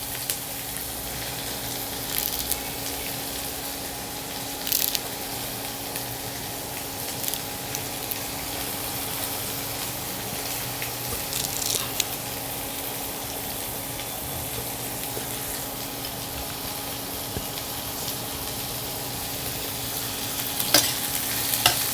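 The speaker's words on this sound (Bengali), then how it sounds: "সব এগুলো একটু ভেজে নেব।" Curry leaves and spices frying in a pan for a quick mashed-rice dish, a steady low sizzle with occasional stirring scrapes and brief louder crackles, close and continuous without talk.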